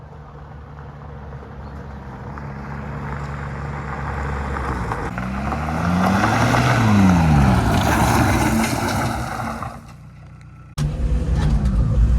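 A Citroën Bora rally car on a road test drive, its engine droning steadily and rising in revs and pitch through acceleration, easing off, then cutting back in abruptly, loud and close throughout.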